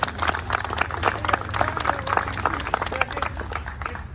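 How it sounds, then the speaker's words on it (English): Outdoor applause from a modest crowd at a courthouse reading of the Declaration of Independence, steady scattered clapping over low wind-like rumble, with a few voices murmuring underneath. "give them a round of applause as well"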